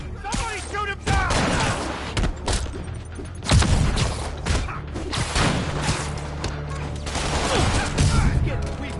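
Gunfire from Fisk's men in the Spider-Man video game, scattered shots and thuds mixed into chaotic combat action, with voices and game dialogue heard alongside.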